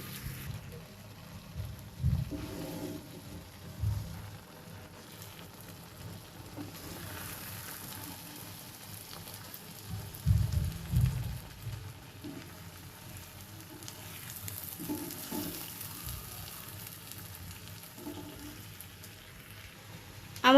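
Meat masala spices fry in a pan for a beef curry with a faint, steady sizzle and occasional soft stirring knocks, quiet and close.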